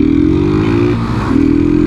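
Motorcycle engine revved hard while riding, a loud continuous drone with rising and falling pitch and a brief dip before climbing again, close up with no talk.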